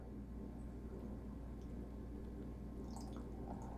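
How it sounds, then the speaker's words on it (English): Water poured over a flameless heating pack in a thermal stove, producing a soft, steady trickle and faint dripping, close and quiet, with no talk. "we're gonna pour it over the heating pack"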